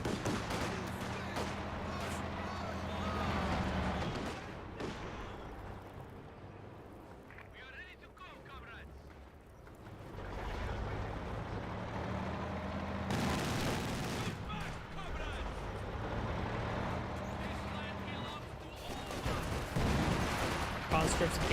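Dense battlefield din from Company of Heroes 2: bursts of rifle and machine-gun fire with heavy explosions rolling through, loud and continuous, with a short lull in the middle, while a voice talks over the combat.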